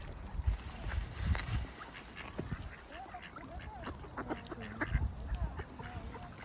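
Several ducks quack intermittently at moderate distance, scattered nasal calls over rustling outdoor background noise.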